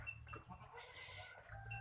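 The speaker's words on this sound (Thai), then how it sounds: "เปลี่ยนโหมดมาดูลูกแพะตัวน้อยๆกันบ้างนะคะ" Week-old baby goats bleat faintly in the distance in short, thin cries over a quiet outdoor background.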